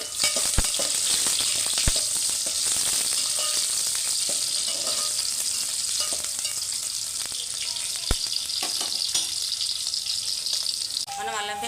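Onions fry in a pan of oil for egg biryani, a loud, dense sizzle running throughout, punctuated by a few sharp clinks of stirring.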